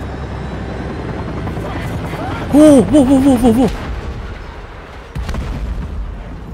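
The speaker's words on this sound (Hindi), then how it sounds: "अरे बाप रे, हेलीकॉप्टर भी टूट गया, ये क्या है यार।" A helicopter crashes in the video game Still Wakes the Deep, heard as a steady heavy rumble with a thud near the end. A man exclaims loudly over it.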